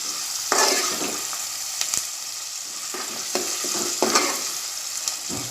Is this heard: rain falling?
no